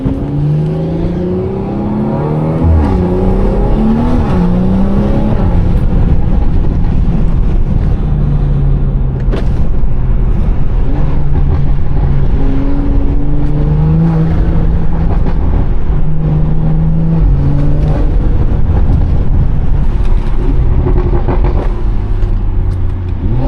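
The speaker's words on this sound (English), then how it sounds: "Listen to them downshifts." Exhaust of a BMW 340i heard from inside the car, a loud continuous engine drone that rises and drops through repeated downshifts with revving blips, heard alone without talk.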